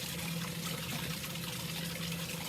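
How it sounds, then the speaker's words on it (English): Water poured into a lab container to rinse its edges during a fractional crystallization experiment, a steady close trickle and splash running continuously without speech. "rinse this out with a little bit of water around the edges"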